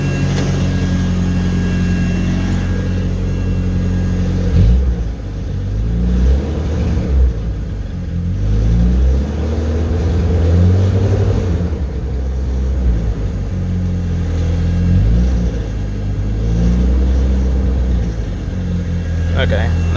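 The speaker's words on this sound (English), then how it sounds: "So I'm gonna try hitting the gas a little bit now, and we'll see if it responds faster." A 1991 Chevy S10 pickup fitted with a DIY supercharger rumbles loudly up close, its engine swelling in several rising and falling revs as the gas is pressed, with a hint of speech underneath.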